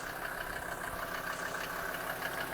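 A 1995 Mercedes G 290 GD with a 2.9 liter five-cylinder turbo diesel idles steadily, a constant, moderately faint rumble with no talking.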